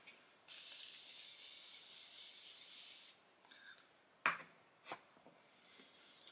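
Makeup setting spray misted from a bottle: one long close hiss lasting a few seconds, then quiet, with a couple of short sharp taps or rubs afterward.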